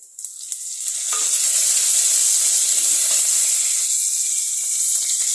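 Dried red chillies and curry leaves crackle into hot oil, an initial burst of pops swelling into a loud, continuous close-up hiss that holds steady to the end.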